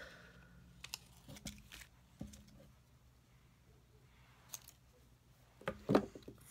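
Scissors snip paper pieces for a pocket letter in a few separate close cuts with quiet pauses between them, ending in a louder burst of snipping, and no voices.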